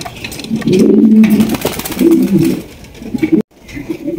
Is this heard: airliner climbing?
no